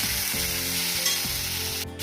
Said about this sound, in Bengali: নুন হলুদ দিয়ে হালকা করে ভেজে নেবো